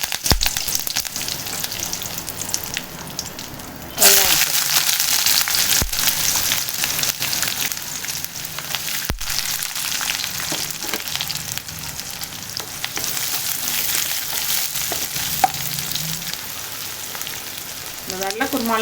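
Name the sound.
whole spices (cinnamon, cardamom, cloves, bay leaf) frying in oil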